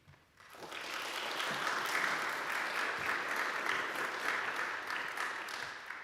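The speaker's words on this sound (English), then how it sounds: "Don't clap yet, you haven't heard anything." Audience clapping at a lecture on queer theology and the church, a steady wash of many hands that swells in after a brief quiet start and holds evenly at moderate loudness throughout.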